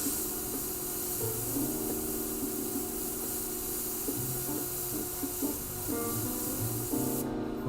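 An airbrush spraying paint gives a steady, close hiss that runs almost unbroken, with small shifts in pitch from the compressor and airflow and no speech.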